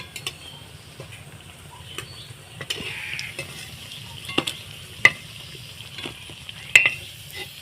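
Onion fritters (piyaji) fry in hot oil with a soft, steady sizzle, broken by sharp ticks and clinks of a utensil against the pan, and no talking.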